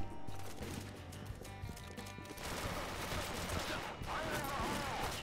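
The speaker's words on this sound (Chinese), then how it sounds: "又被狙击枪射到" Sniper rifle shots in the online shooter Aim Online, buried in a dense, busy wash of battle noise with many overlapping shots and effects at moderate level.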